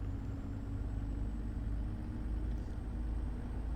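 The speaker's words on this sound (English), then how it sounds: "It's the Pepsi truck again." A delivery truck carrying Pepsi drives by in a video game, a steady low engine rumble with a faint high whine, continuous and fairly close for the whole stretch.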